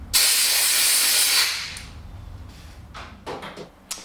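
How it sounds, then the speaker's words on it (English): A compressed air line blasts sediment out of the float bowl of a two-stroke outboard engine carburettor with a loud, steady hiss of about a second and a half. A few brief clicks and handling knocks follow. "Simply blow it out with an airline."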